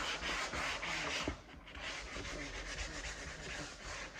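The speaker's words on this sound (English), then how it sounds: "it's for sanding where I filled in the putty." Rough, rhythmic scraping of sandpaper rubbed back and forth over filled wood putty on wooden trim, close and fairly quiet, with no voices.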